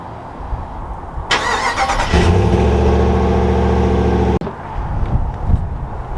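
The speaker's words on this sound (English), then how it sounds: "let's get a little bit of a startup here" A 2021 Ram 1500 Sport pickup engine cranks and fires, settling into a loud, steady idle heard from near the chrome exhaust tips, then cuts off abruptly, leaving quiet room noise.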